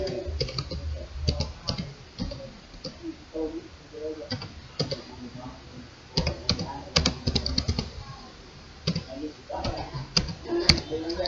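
A command typed on a computer keyboard while running a JavaScript file with Node.js: bursts of rapid, close key clicks with brief pauses between them, and no talking.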